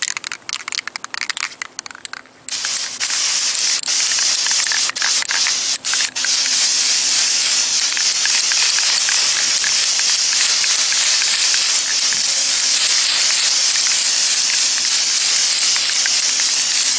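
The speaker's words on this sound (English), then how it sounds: "Flat black spray paint, we're gonna use that as guide coat. I'm gonna lightly mist it on." Flat black spray paint is misted lightly onto a car as a guide coat, a loud, steady aerosol hiss running unbroken for about fourteen seconds after a few short sputtering bursts.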